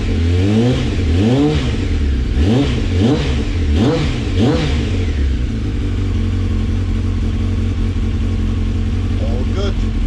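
Motorcycle engine idling after a warm-up, blipped through several quick rising-and-falling revs in the first half, then settling to a steady, loud idle; someone speaks over it.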